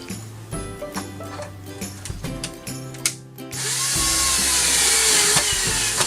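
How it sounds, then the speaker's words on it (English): Cordless drill running on an almost dead battery, heard close and loud: a steady whirring motor drone that starts around the midpoint and holds, following a stretch of clicking ratchet-like mechanical sounds and scattered knocks. "now you can see why I didn't use the drill when I was removing the screws"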